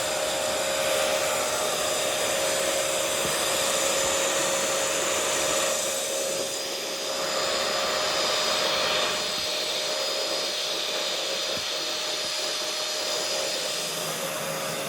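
A Prettycare V3 cordless stick vacuum cleaner runs continuously with a steady, high-pitched motor whine and airflow hiss, close and loud, with slight dips in tone as it moves over surfaces.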